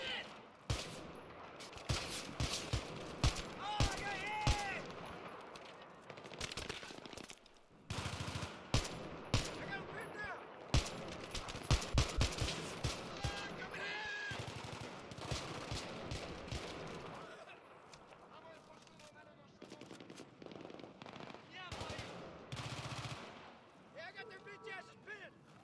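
Battlefield 3 gunfire breaks out in dense bursts of rapid automatic shots and scattered single cracks. The shooting pauses and resumes throughout, with occasional explosions and talk in between.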